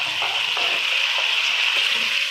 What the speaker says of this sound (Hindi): घी हमारा हल्का हल्का सा गर्म हो चुका है। अब मैं इसके अंदर मैश किया हुआ प्याज